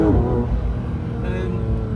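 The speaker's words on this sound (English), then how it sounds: "We switch it to sport mode, immediately the exhaust note gets louder," A 2025 Porsche 992.2 GT3's naturally aspirated flat-six exhaust in sport mode drones loudly and continuously from the cabin, with someone talking over it throughout.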